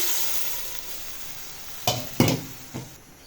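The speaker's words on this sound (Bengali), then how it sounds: "এখন ডালগুলো দিয়ে দেব ডালগুলো আমি ফুটিয়ে রেখেছিলাম আগে থেকে" Boiled lentils tipped into a pan of frying home-grown vegetables with green chillies, giving a few loud wet splats and bursts of sizzle over a quiet background hiss.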